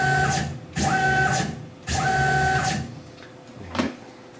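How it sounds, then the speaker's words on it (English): A Tormach PCNC 1100 CNC mill with stepper motor drives jogging along its Y axis: three loud, steady whining runs of about a second each, separated by short pauses, then a brief faint whir and a clunk. "Let me jog the machine."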